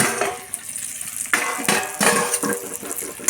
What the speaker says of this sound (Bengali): এবার ঢাকাটা খুলে দেখব